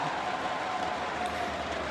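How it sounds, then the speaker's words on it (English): Steady roar of an esports arena crowd cheering and applauding at a Counter-Strike match, a dense continuous wash of noise at moderate level with no clear breaks. "And the crowd love it."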